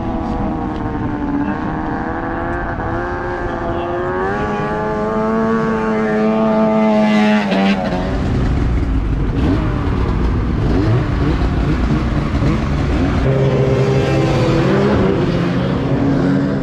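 At a snowmobile racing rodeo, a snowmobile engine revs loudly with the throttle open, first climbing through rising tones, then cutting out sharply before rumbling and revving again close by.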